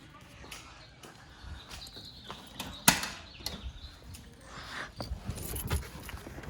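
Car keys jingle and clink in short bursts, close by, with a few sharp metallic taps over quiet background noise; no one speaks.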